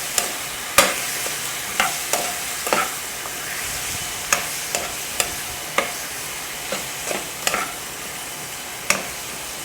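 Chicken seasoned with black pepper is stirred in a frying pan, with a steady sizzle under repeated sharp scrapes and clinks of the utensil against the pan at an irregular pace.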